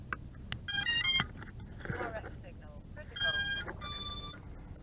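A FrSky X9D radio transmitter powers up with bright electronic beeps in short rapid bursts, two clusters separated by a pause, while someone talks quietly in between.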